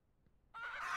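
Chickens in the farming video game Ranch Simulator cluck, a loud burst of fowl noise that starts abruptly halfway through after near silence and carries on to the end.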